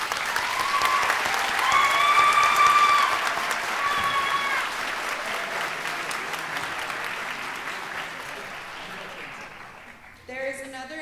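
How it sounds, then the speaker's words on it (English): Graduates and guests at a nursing school pinning ceremony break into loud sustained applause with some cheering, swelling then slowly tapering off over about ten seconds before a voice begins speaking. "Please take a moment and give yourselves a round of applause."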